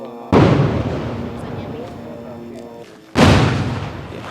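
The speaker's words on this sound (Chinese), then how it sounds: "现在我们可以听到，有非常多的这个炮击声音，都是以色列军方往加萨走廊的地方发射炮弹" Israeli artillery shells are fired toward the Gaza Strip from near a kibbutz, with two deep, loud booms a few seconds apart, each followed by a rumbling tail. A reporter's voice can be heard in between.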